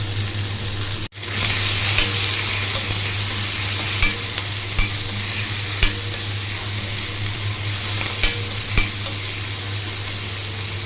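Onion and curry leaves fry in a kadai for beetroot poriyal, giving a steady close sizzle with intermittent sharp spatula clicks and scrapes after a brief dropout near the start.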